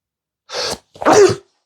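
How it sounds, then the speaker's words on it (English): A single close, loud sneeze from a person: a short breathy intake followed by a sharp, explosive burst, with silence before and after. "I'm going to sneeze."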